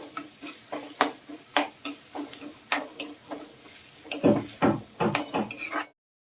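Onion sautéed in a pan, a spoon scraping and tapping the pan in irregular strokes, about a dozen distinct clinks and stirs over a soft sizzle, close and moderately quiet, stopping suddenly at the end.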